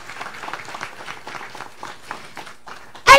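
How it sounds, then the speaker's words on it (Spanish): Audience at a children's book presentation claps softly, a quiet, spread-out patter of hands from a distance, ending in a sudden loud burst. "eso merece un fuerte aplauso"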